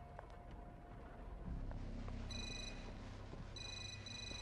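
A telephone rings upstairs in the horror video game Suffer The Night, heard faintly as if through a wall, with two short high ringing bursts over a low rumbling ambience.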